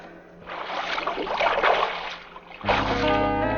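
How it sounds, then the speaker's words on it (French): A kayak sound effect: paddle splashes and rushing water rise and fall for a couple of seconds, then a steady low tone comes in under a second burst of splashing. "Un kayak."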